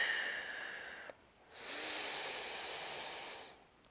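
Slow, soft breathing during a guided fascial release for the low back and hips: a long airy inhale or exhale, a short pause, then another long hissing breath, quiet and close.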